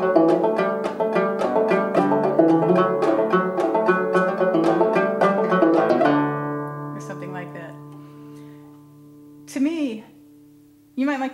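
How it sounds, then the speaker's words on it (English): Cello banjo played clawhammer style on the fiddle tune Liberty: a fast, driving run of plucked and brushed notes for about six seconds, then ringing notes fade out and a few short strums follow. "So if you just pick this up and start clawhammering away"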